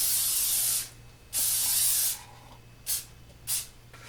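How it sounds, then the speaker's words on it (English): Non-stick cooking spray being sprayed into a metal tube pan: two longer hissing bursts followed by two short puffs, close and clear over a faint steady hum, with no voices. "you can spray this with the non-stick cooking spray like I'm doing"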